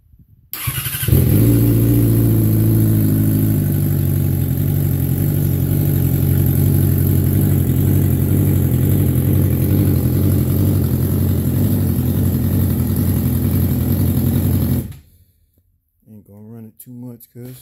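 A rebuilt 2012 Yamaha R6 sport motorcycle, running without a radiator after being wrecked, fires up with a sharp start and settles into a loud, steady high-pitched engine roar close by, then cuts off abruptly.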